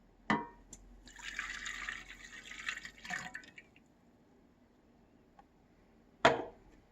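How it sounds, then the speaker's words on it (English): A water and yeast mixture is poured into a Tefal bread maker pan in a home kitchen, a splashing, hissing pour of about two seconds framed by sharp clunks before and after. "After that, pour in the water and yeast mixture."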